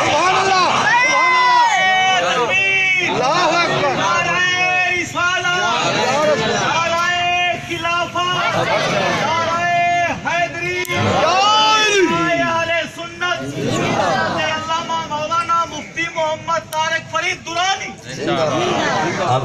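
Large crowd at a religious gathering raising loud slogans together, a dense, sustained roar of many voices with rising shouted bursts throughout, close and continuous.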